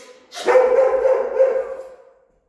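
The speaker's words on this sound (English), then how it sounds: "my apologies for Shayna barking" A dog named Shayna barks once in a drawn-out, loud, whining bark that lasts about two seconds close by, during a puppy training session, with no talk over it.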